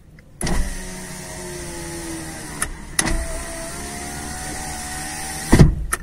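A 2011 Honda Jazz 1.5 RS power window runs several times, its motor whirring with a thin squeak riding on top, broken by sharp clunks as the glass stops.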